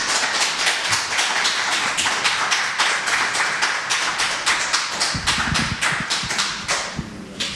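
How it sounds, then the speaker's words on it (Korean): A church congregation claps together in welcome, a dense and steady burst of applause that fills the room and carries on for several seconds before thinning out. Some shuffling and low movement sounds underneath near the end. "우리 박수로 환영하겠습니다."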